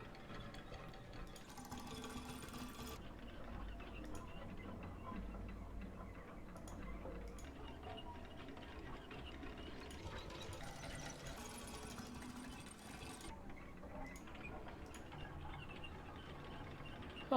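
A repeated mechanical clanking sound effect for an elevator starting up in the game Core, heard as a continuous rhythmic ticking churn with no one talking.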